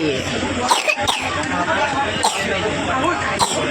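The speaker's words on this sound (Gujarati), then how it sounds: "અંદર કેમેરામાં ખાંસી ખાય" Several sharp coughs break out at intervals over a steady background murmur of voices, the coughs close and fairly loud.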